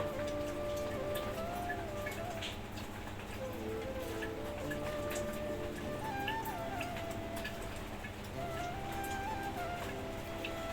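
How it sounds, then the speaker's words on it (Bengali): Light rain falls outdoors, a steady soft patter of drops with a few faint ticks and distant background tones, constant and without talk. "বাইরে তো টিপ টিপ করে বৃষ্টি পড়তেছে"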